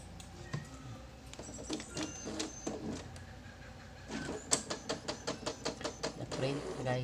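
A home printer printing a permit document, a mechanical whir with rapid rhythmic clicks and taps toward the end, close by, with some talk nearby.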